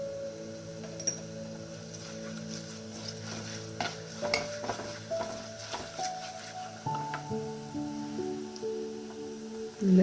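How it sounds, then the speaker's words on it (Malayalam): Mango pickle base being stirred and sautéed in a pan with turmeric powder, giving a soft steady sizzle of frying with scraping stir strokes and light ticks throughout, no talking. "ഇത് രണ്ടും കൂടി നന്നായിട്ട് ഒരു ചെറിയ ബ്രൗൺ നിറത്തിൽ വരുന്നത് വരെ നമുക്ക് വഴറ്റാം."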